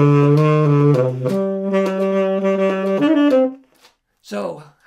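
A saxophone plays sustained legato notes using the venting technique, giving a breathy, shifting tone across a few held pitches, close and loud, before a short pause and a brief final note.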